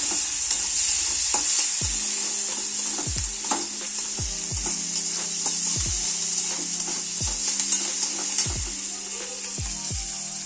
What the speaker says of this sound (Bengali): এবার পেঁয়াজ দিলাম, পেঁয়াজটাকে ভেজে নেব।